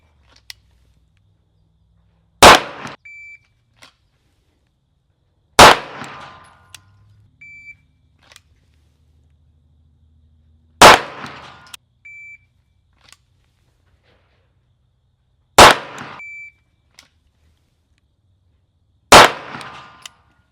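Five loud, sharp pistol shots at an outdoor range during a Marine Corps pistol qualification, spaced several seconds apart with short ringing tails and quiet between them.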